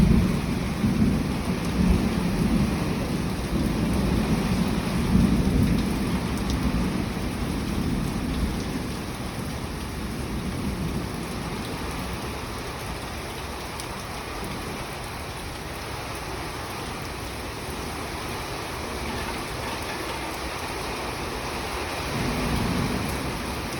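A heavy early-morning thunderstorm in North Texas brings steady rain that hisses and patters without a break, under low, rolling thunder that fills the background and swells again near the end.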